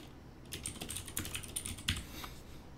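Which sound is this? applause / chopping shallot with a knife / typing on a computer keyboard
typing on a computer keyboard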